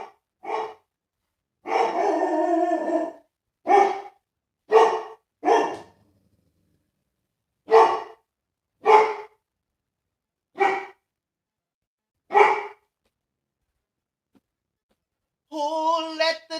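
A dog barking in a loud, close series of about a dozen barks, some single and some in longer bursts, separated by silent gaps with no talking.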